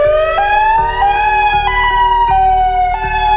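An EOWS612 warning siren wails loudly and steadily, its tone held high with small stepped rises and falls, alone and close throughout.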